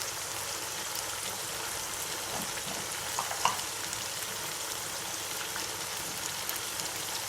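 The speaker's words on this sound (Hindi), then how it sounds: "अब हम इसमें लहसुन अदरक का पेस्ट डाल देंगे" Ginger and garlic paste hitting hot oil in a pan for an Eid dish, giving a steady, dense sizzle throughout with a brief sharper crackle near the middle, no talking.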